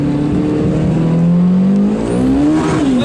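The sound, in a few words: Japanese AWD car accelerating in first gear with wheel spin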